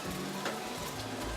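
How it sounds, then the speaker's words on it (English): Coconut milk hits a hot pan of chicken curry, giving a loud, steady sizzle and bubbling fry up close. "I'm going to add my coconut milk."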